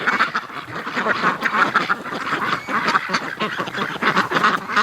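Many large Pekin ducks quack loudly and continuously nearby, overlapping calls forming a dense, raucous chorus.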